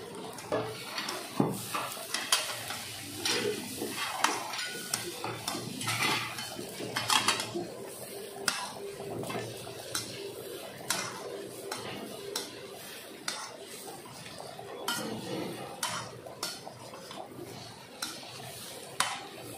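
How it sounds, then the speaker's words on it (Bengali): Rice being stirred and fried in a pan for polao, with repeated metal scraping and clinking of a spoon against the pan, close and fairly steady across the clip. "চালটা দেখো ভাজা ভাজা হয়ে গেছে"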